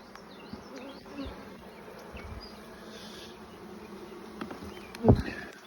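Honeybees buzz steadily close by while a hive is opened for inspection, a dense continuous drone with a sharp knock near the end.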